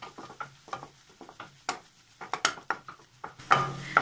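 A spoon stirs a sautéed mixture in ghee with cardamom powder in a pan, making a series of quick, close scraping and tapping strokes over a soft sizzle.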